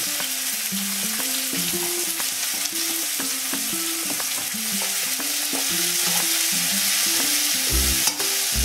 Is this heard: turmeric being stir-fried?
yes